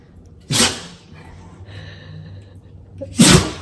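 Two sharp sneezes about three seconds apart, loud and close, with a quiet room hum in between.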